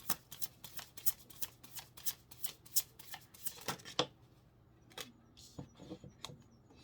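Tarot cards are shuffled up close in a quick, regular run of crisp riffling flutters that soften after a few seconds into scattered slides and taps.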